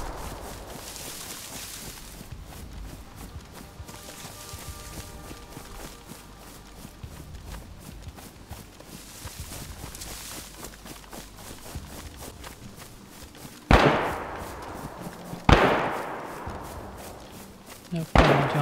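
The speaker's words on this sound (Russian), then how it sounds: "Опять выстрел этот." In the video game DayZ, three sharp, loud gunshots crack out near the end with a short echoing tail, following a long stretch of quiet ambient rustling and footsteps.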